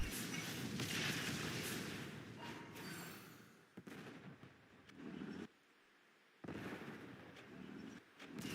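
Howitzer artillery fire in the video game Warpath: a dense run of booming blasts and crackling impacts, faint and distant-sounding, broken by a brief silent gap before the barrage resumes, no talking.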